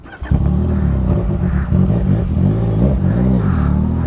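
A motorcycle engine starts up and runs close by, a loud, low rumbling idle with repeated revs rising and falling in pitch over several seconds, with no talking.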